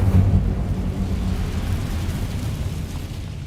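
An Incendio fire spell explodes in Hogwarts Legacy with a loud, deep rumbling roar that swells at the start and then rolls on steadily before fading slightly toward the end.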